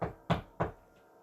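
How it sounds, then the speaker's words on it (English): Two sharp knocks on a door, spaced evenly about a third of a second apart, close and fairly crisp against a quiet background. "And then I heard a knock at the door"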